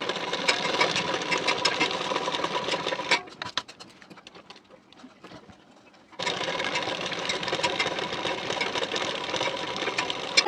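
Sewing machine stitching a folded hem on a boat neck blouse, two loud bursts of rapid whirring stitches separated by a few seconds of quiet handling clicks, close and without talk.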